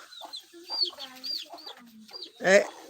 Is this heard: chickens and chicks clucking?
yes